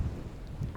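Strong wind gusts of about 20 to 25 with higher bursts buffet a campsite on the Rocky Mountain Front in Montana, heard as a heavy, close, low rumble that swells and fades, with no speech.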